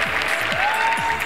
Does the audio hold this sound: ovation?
yes